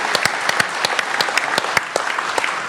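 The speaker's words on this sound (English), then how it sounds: "Stand up and take your applause," Applause from an audience at a live comedy-style gathering, steady dense clapping with a few sharp individual claps standing out, moderately close and continuous throughout.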